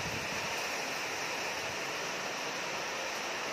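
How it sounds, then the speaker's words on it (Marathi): Rainwater swept off a balcony with a broom makes a dense, continuous wet rushing hiss, steady and fairly loud throughout with no voices. "मी बाल्कनीमधलं पाणी काढते माझ्या झाडूने"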